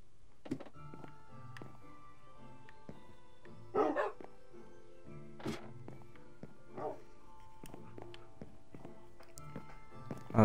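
Dogs in the video game Minecraft give a handful of short, quiet barks spaced several seconds apart, with soft in-game thuds and footsteps around them.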